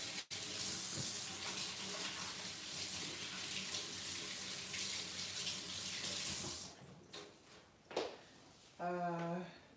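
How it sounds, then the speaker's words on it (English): Kitchen tap running steadily while hands are washed before baking, a loud close gush that stops abruptly, followed by a few clatters and a brief voice. "wash my hands."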